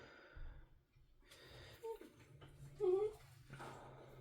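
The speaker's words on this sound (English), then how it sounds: "Dog." A dog whimpers and snorts quietly nearby, giving a few thin high whines and soft snuffling breaths over a hushed indoor background.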